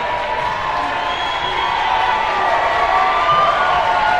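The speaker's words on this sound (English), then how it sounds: "you can hear the crowd cheering our Colts on" A crowd cheering and shouting steadily throughout at a high school basketball game in Arizona, a dense roar of many voices, fairly loud and continuous.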